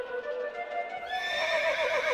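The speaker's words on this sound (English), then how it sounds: "With his racehorse, Incitatus." A racehorse whinnies in one clear, rising and falling neigh that swells and wavers toward the end, close and fairly loud with no voices over it.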